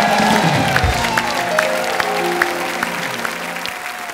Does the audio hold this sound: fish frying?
no